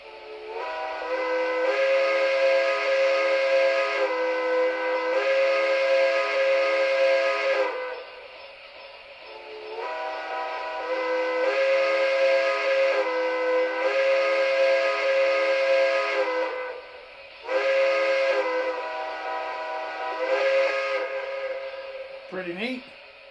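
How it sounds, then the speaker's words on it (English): Steam whistle from an MTH Premier PRR K4 model locomotive, sounding as a series of long, loud, chime-like blasts separated by short breaks, with a brief falling tail at the end. "this one now sports a quillable whistle as well"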